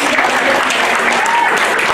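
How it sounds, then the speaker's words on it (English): A worship congregation gives a loud, resounding clap of praise, a thick, continuous burst of many hands clapping at close range for the whole brief moment. "A resounding clap of praise."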